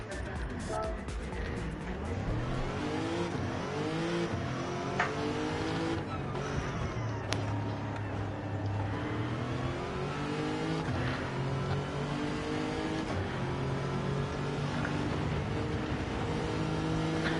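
A race car in a racing video game during a championship qualifying and heat session, its engine revving up and down through gear shifts with brief tire squeals, heard under steady spoken commentary.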